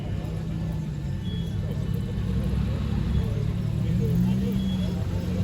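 A Morgan classic car pulls into a small Sunday classic car meet in France on a spring day, its low engine rumble steady and moderately close amid general event background.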